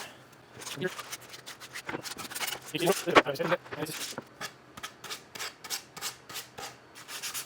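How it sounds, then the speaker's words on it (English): Wooden organizer edges and cutouts are hand sanded with sandpaper, making quick, uneven bursts of close scratchy rubbing strokes. "I'm just going to hit the edges and just the cutouts with a little sandpaper."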